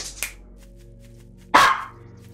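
A dog barks in a Night of the Dead multiplayer game session, with a couple of short sharp barks, one faint early and one loud and close near the end, over a steady low hum.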